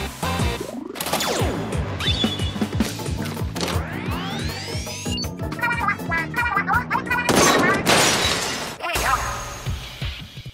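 Charged E-Liter 4K sniper shot in Splatoon 3, with charging whines, sharp impacts and splattering bursts over busy game music and effects.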